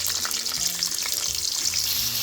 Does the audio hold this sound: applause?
no